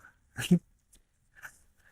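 A dog at an adobe-walled country house gives a short bark-like yelp, then a fainter second bark after a pause, close by in an otherwise quiet space.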